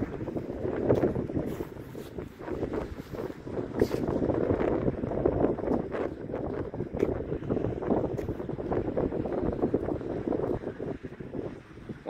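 Strong outdoor wind buffets the microphone on a disc golf course, a continuous loud rumbling roar with gusty swells lasting throughout and no talking.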